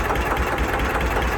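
A 1954 narrowboat engine, originally from South African mines, runs steadily with a low rhythmic knocking thrum, close and continuous with no talk.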